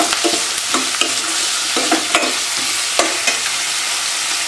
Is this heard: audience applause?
no